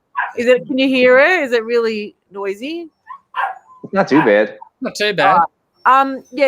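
A pet dog tied up outdoors barks and yips excitedly in bursts, loud and close, overlapping and alternating with a person talking nearby.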